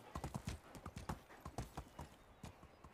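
A horse's hooves clip-clop steadily in the medieval survival game Medieval Dynasty, a quick, even, fairly close rhythm of hoofbeats with no talking over it.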